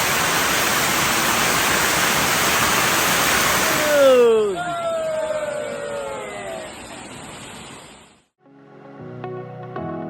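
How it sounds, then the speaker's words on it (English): Waterfall below a terraced village in Peru pours with a steady, loud broadband roar for about four seconds, then gives way to a voice and fainter scattered sounds. "What a beautiful waterfall."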